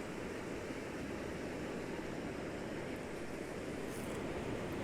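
Steady, continuous wash of ocean surf along the shore, a dense roar without distinct breaks, even and moderately loud throughout with no voices.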